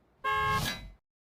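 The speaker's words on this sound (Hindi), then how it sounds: "हम हॉर्न दबाएंगे।" A vehicle horn is pressed once for a single loud, close honk lasting under a second, which stops abruptly into silence.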